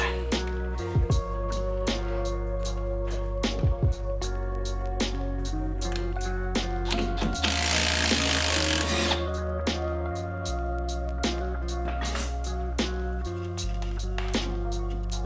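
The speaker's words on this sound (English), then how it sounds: "we should be good to take these 4 bolts out. They are 14 millimeter, and I recommend you use a 6-point socket as well as a breaker bar" Tools work on the rear brakes of a Honda Civic during a disc brake upgrade: a breaker bar and 6-point socket loosen 14 mm bolts, giving clanks, ratcheting clicks and a dense burst of grinding metal noise partway through, close and steady.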